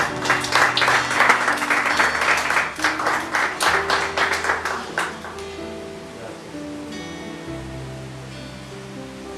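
A church congregation applauds during a Spanish-language sermon: loud, dense clapping for about five seconds that then fades quickly to quiet murmurs and faint room tone.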